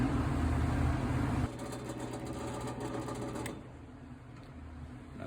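A rotary grinder works the combustion chambers of a Ford GT40P cylinder head, a steady close whirring grind that shifts pitch and load partway through, then continues lighter and quieter toward the end, with no talking.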